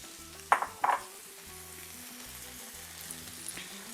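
Oaxaca cheese melts on a hot griddle with a steady, soft sizzle, two brief louder scraping stirs near the start, then continuous frying hiss alone.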